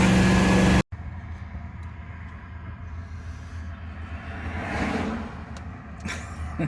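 A 1979 AMC AMX with a rebuilt 304 V8 and four-speed manual cruises at around 40 mph, a steady low engine drone and road rumble heard from inside the car after a brief cut, with no talking.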